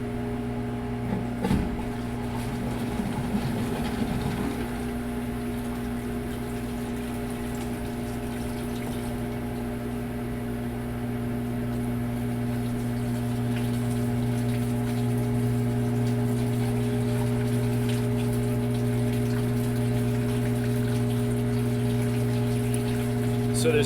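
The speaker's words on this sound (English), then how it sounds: "this pump has enough flow rate to overflow the tank" A water pump runs steadily while filling an orifice lab tank, giving a constant tonal hum with rushing water beneath, growing slightly louder over time, with brief knocks near the start and no talk.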